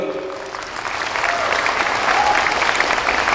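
Applause from a large crowd swells and holds steady, dense clapping filling the space for a few seconds.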